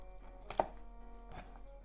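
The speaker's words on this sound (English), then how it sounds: "So green onion. Cut the bottom off." A knife cuts the root ends off green onions on a cutting board, giving two quiet single chops about a second apart against a faint background.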